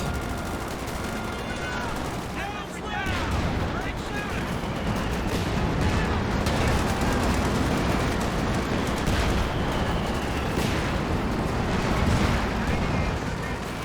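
Artillery barrage in the real-time strategy game Company of Heroes 2: dense, continuous booms and gunfire rumble steadily throughout, with someone commentating over the battle.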